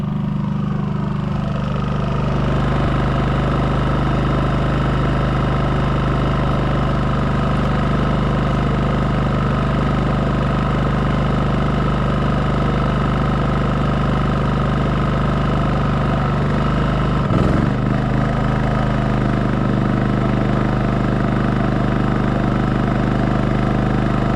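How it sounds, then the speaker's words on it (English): A camper's engine idles continuously, loud and close, with a brief thump partway through as the air conditioning starts and a slight lift in its hum afterward. "the revs kick up as the air kicks on."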